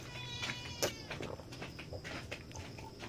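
A kitten meows in short repeated cries, faint and somewhat distant, over light background noise and clatter.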